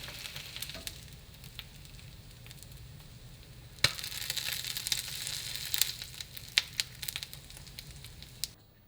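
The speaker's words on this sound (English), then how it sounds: "He then gently places it into the griddle, using his gloveless paws to move it around and ensure they are well coated in oil." Salmon patties fry in oil on a griddle, giving a steady soft sizzle and crackle that grows busier partway through, with no voices.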